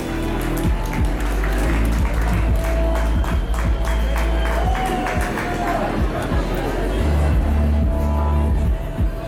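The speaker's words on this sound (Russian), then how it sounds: "Аплодисменты." Audience at a poetry evening at a food mall venue applauding, a dense continuous wash of clapping from a crowd mixed with background chatter and murmuring voices, loud and sustained throughout.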